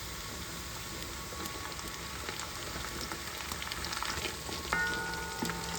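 Horse meat frying in a pot for plov with onions and carrots, a steady, moderately quiet crackling sizzle that builds slightly, with a couple of brief metallic scrapes near the end.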